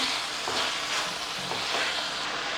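Chicken gravy stirred in a pan over the heat, with a steady broadband sizzle and soft scraping strokes of a spoon repeating every half second or so, close and continuous with no talk.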